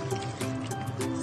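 Water poured into a cooking pot while making chicken caldereta, a steady trickling and splashing fill that lasts about a second, close and moderately loud.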